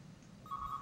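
A phone in the horror video game Calling starts ringing faintly, a single thin electronic tone that begins halfway through a quiet, low-level background hum, with no voices.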